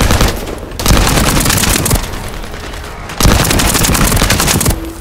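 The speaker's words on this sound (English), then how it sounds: "The shooting has stopped, I see." Sustained automatic gunfire from the video game The First Descendant, loud dense bursts of rapid shots with brief lulls between volleys, no talking.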